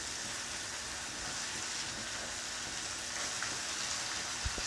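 Hot oil tempering sizzles and hisses over mashed suran (elephant foot yam) bharta, a steady close crackling wash that grows slightly louder toward the end, with no speech.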